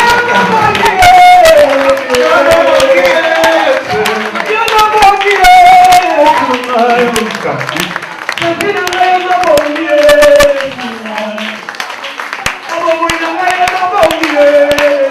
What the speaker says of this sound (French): Est-ce qu'on ne peut pas accompagner ce frère avec des acclamations?